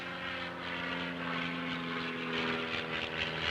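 A propeller-driven seaplane or bush plane drones steadily in Alaska, a continuous rumbling engine hum with a throbbing pulse that stays loud and even throughout with no voices.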